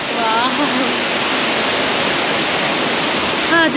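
A waterfall on the Annapurna Circuit trek roars as a loud, continuous close rush of falling water, with faint voices briefly audible beneath it.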